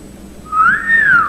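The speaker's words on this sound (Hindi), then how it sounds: "अकेली लड़की को देखो सीटियां बजाते हो तुम" A single close, clear whistle slides up and then dips in a quick two-part wolf-whistle, loud against a quiet background.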